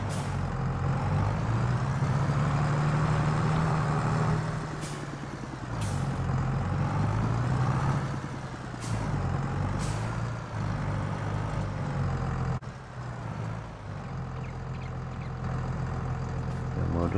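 Farming Simulator 22 tractor engine running steadily in reverse while lining up to hitch a trailer, a continuous loud diesel drone with brief hiss-like bursts and a sharp knock near the end, and no talking over it.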